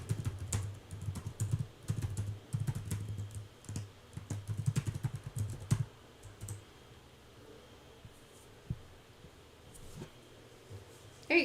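Quick keystrokes on a computer keyboard while an email address is entered: dense clattering bursts for about six seconds, then a few scattered clicks amid quiet room noise.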